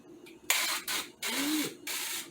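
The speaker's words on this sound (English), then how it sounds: "This is an organic olive oil spray instead of the avocado oil, but there's no propellant." An organic olive oil spray can with no propellant hisses in three or four short, loud, close bursts separated by brief pauses, with no talking.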